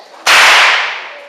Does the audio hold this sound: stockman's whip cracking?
yes